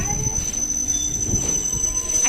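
A large passenger train rolls past close by, a steady low rumble with rail and wheel noise filling the whole stretch, and no one talks.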